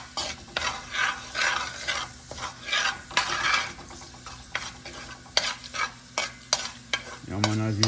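Garlic toasts in hot oil for a Jamaican meal, a loud close sizzle with rhythmic spoon scrapes and stirring strokes throughout, ending in a brief metallic ring.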